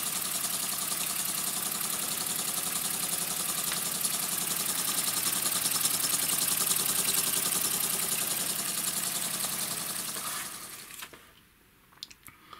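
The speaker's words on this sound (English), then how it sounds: "I've got this engine working," A small model steam engine kit running, a steady fast chuffing and mechanical rattle held loud and even for about ten seconds before it winds down and falls quiet, with no talk.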